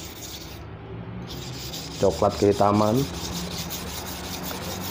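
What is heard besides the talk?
rusty slaughter knife rubbed on natural sharpening stone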